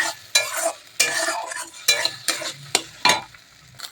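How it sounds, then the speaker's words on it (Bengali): Beaten, salted egg frying and being stirred in hot oil in a pan, with repeated sharp scraping strokes of a utensil over a steady sizzle, close and fairly loud. "তো দেখো তেল আমার গরম হয়ে গেছে আর এখানে যে ডিমটা গুলিয়ে রেখেছিলাম নুন দিয়ে সেটাকে আমি ভেজে নিচ্ছি"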